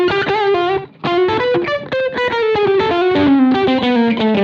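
Distorted electric guitar riff through a BOSS GX-100 patch with slapback echo, loud sustained notes and bends sliding downward with a brief pause early on, no talking.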